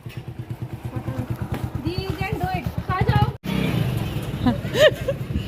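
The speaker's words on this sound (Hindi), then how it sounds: "जाएंगे बाइक लेके, बाइक से जाएंगे" A motorcycle ride on a rural trip from Ghaziabad to Shikarpur, the engine putting steadily close by with a pulsing rhythm, while people talk over it and wind rushes past.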